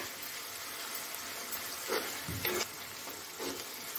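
Tomato curry with sabzi masala being stirred in a pan: soft steady sizzling with a few muffled spoon scrapes and stirring bursts in the middle, no voices.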